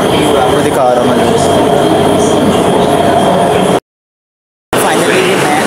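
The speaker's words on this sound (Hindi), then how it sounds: "फाइनली मैं अपने रेलवे स्टेशन पे आ चुका हूँ" A train rumbles through a railway station on the Orange Line, with a steady loud roar, rattling carriages and faint wheel squeal, briefly cut off by a moment of silence before the rumble resumes.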